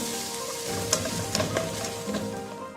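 Tomato paste hits a hot pan for aloo matar veg pulao and is stirred in. A continuous close sizzle carries light scraping and tapping from the spoon over nearly three seconds.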